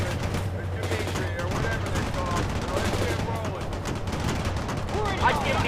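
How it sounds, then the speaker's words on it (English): Rapid gunfire and distant explosions from a combat battle in the game World in Conflict run continuously under shouting voices and radio chatter. "They're firing at us. We're under attack."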